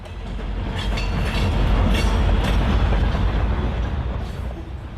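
HO scale model trains of a Kansas City Southern Hot Springs Division layout rumble steadily along the track, a continuous close rolling roar with faint clickety wheel texture and no voices.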